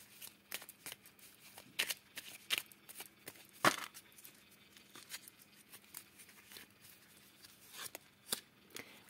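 Tarot cards are shuffled and handled for a reading. Soft, irregular slaps and riffles sound up close at a quiet level, with one sharper snap midway and scattered light clicks throughout, and no speech.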